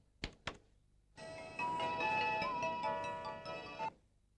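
In a scene from the Telugu comedy film Evandoi Srivaru, two quick thumps are followed by a telephone's bright electronic ringtone, which trills steadily for about three seconds before cutting off.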